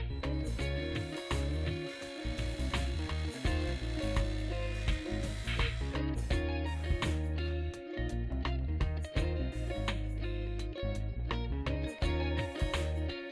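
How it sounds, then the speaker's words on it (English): A small 3mm drill bores out a rivet securing the window unit of a die-cast Matchbox Cadillac ambulance toy, giving a steady close whirring and grinding with brief pauses and rattles throughout. "The window unit is secured with another rivet that I'll drill out with a 3mm drill."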